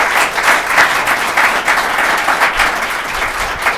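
County council meeting audience applauds Councilman Ernie Davis with sustained, fairly loud clapping from a room of people, an even crackling texture throughout.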